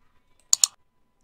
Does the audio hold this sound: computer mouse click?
yes